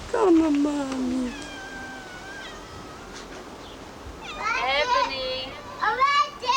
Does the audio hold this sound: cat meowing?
yes